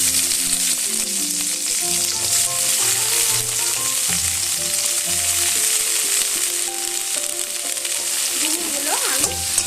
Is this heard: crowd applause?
no